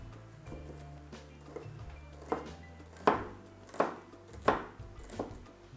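Knife chopping green onions on a cutting board for lo mein, a handful of sharp, fairly close chops spaced about a second apart over a low background hum.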